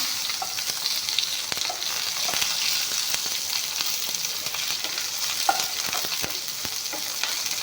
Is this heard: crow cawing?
no